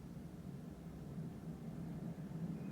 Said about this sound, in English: So there's an example of pink noise.